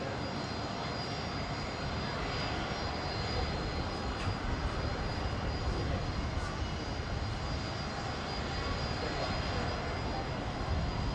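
A Rex airliner on flight 906 from Adelaide lands on runway 19 left at Brisbane International Airport in about 15 knots of crosswind, producing a continuous, broad engine roar that holds steady and fairly loud throughout.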